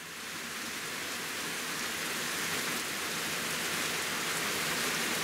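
Very heavy rain pours down at a campsite in a steady, dense roar, like a downpour hammering every surface without letup.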